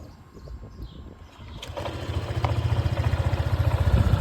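Honda SH 150 scooter engine starting up and settling into a fast, even idle, the low putter growing louder and closer over a few seconds, with no talking.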